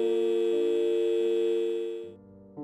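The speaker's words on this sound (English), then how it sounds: "The phone disconnected, leaving an eerie silence in the room." A steady telephone tone drones as a horror story sound effect after a phone disconnects, sustained and fairly quiet, then fading and shifting to a different tone near the end.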